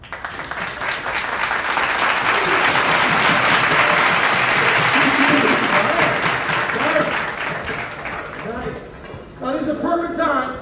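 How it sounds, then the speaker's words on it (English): Studio audience at a Dr. Phil taping during COVID breaks into loud, sustained applause that holds steady for several seconds, then thins as a voice begins talking over the fading claps. "Give yourselves a round of applause."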